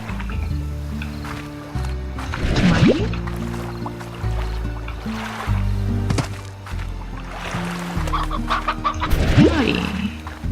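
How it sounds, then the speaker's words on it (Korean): Chickens cluck repeatedly in the Slime Rancher video game, close and fairly loud, over a steady game soundtrack with no talk. "한 3개만 더있어 여기 닭이 한 마리 있고"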